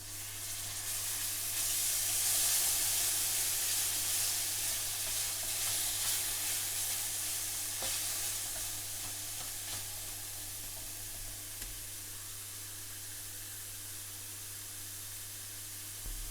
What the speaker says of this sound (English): This will start to create a paste that will allow the spices to fry without burning.